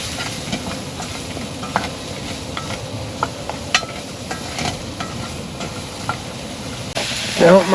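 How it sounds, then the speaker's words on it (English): Mushrooms and onion dropped into a hot pan with burnt seasoning, giving a low, steady sizzle with scattered stirring clicks and scrapes, swelling louder near the end. "let's add our mushrooms and a little bit of onion"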